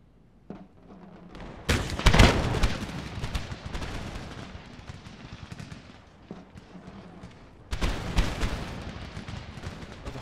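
Line infantry firing a volley in Napoleon: Total War: a sharp crackling burst of massed musketry near the start, a fainter second burst toward the end, and a low rumble of battle noise in between, with no voices.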